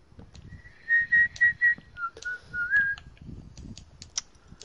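On a farm, a person whistles a tune: four evenly spaced high notes, then a lower phrase of several more, clear and close over faint rumbling background noise.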